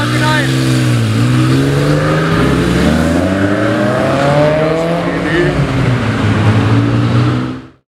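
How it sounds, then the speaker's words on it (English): Mercedes SL Roadster with side exit exhaust pulling away at a car meet, loud throaty engine revving and rising through gears, then fading as it drives off. "SL Roadster, side exit exhaust."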